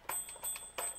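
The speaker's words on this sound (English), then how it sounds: "There's the bell." A toy train's small bell rings in quick, light dings, several strikes over a second with a faint steady high tone behind them.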